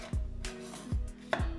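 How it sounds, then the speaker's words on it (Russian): Knife chopping through small crunchy cucumbers on a cutting board, three sharp, evenly spaced cuts that land close and fairly loud with no talking. "Огурцы нарезаю сперва овалами, а затем полосками."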